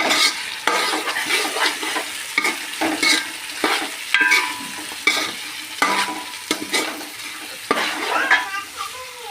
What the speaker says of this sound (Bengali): মশলার সাথে ভালো করে মিশিয়ে নিব।